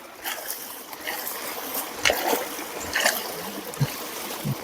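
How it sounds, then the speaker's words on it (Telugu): Irrigation water runs into a farm field, a steady broadband rush with a few soft splashes and gurgles rising over it, close by and without any talk. "పర్లేదు, నీళ్ళు అయితే వస్తున్నాయి."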